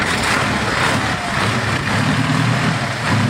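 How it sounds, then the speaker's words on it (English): A 1933 Napier Railton racing car with a 24-litre W12 engine produces a loud, continuous, heavy engine roar. The low rumble stays steady throughout, with no voices present. "Napier Railton is a car from 1933 powered by a 24-litre W12 engine. And it sounds absolutely insane in real life."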